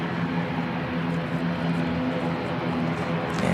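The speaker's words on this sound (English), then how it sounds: "NZ532 heading off to Auckland." Air New Zealand airliner on flight NZ532 to Auckland taking off from Christchurch Airport in wet conditions, a steady broadband jet roar with a low engine drone, loud and continuous without speech.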